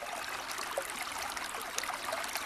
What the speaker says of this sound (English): a stream, water on rocks.